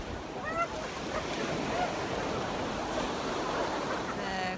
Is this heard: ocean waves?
yes